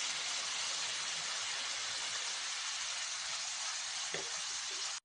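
Tomato pieces, mint and turmeric sizzle steadily in a hot pan of oil for tomato rice, a loud continuous hiss with one brief clink near the end, and no voice.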